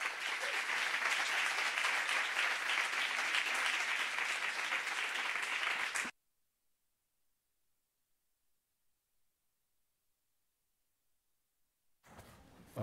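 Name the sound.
audience applause welcoming speaker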